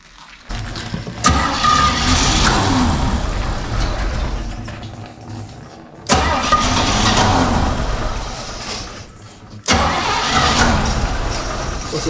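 A 1965 Chevy C10 engine cranks and catches in three loud bursts, each start rising into a rough running roar that fades before the next attempt, heard up close with no talking.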